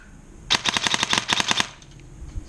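A Scorpion Evo3A1 airsoft gun fires in binary burst mode: a rapid string of about fifteen sharp mechanical cracks in two close groups, loud and near, with no talking.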